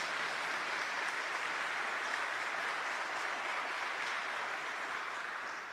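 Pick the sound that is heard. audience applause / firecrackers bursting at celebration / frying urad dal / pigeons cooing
audience applause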